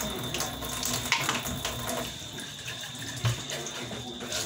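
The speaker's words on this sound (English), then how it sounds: "So rinsing in MJ bathroom" Tap water runs steadily into a bathroom sink or tub while a bathroom is being rinsed, a continuous close splashing wash with a few brief louder splashes.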